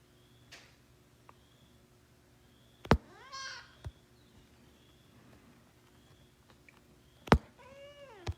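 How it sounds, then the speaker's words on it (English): A house cat meows indoors: a few separate, fairly close calls spread across a quiet room, including a drawn-out rising meow and a later wavering one, with light thumps between. "Cat's talkative this morning, or one of my cats is talkative this morning"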